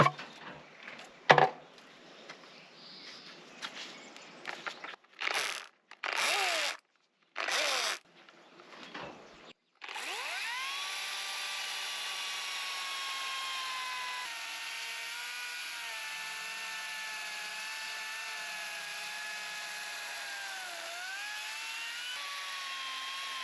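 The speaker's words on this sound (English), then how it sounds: "next up, let's chainsaw." A chainsaw cuts through a timber beam on an off-grid build in Portugal: several short bursts of revving and stops, then a long steady high-pitched run of the engine biting through the wood, loud and close with no talk.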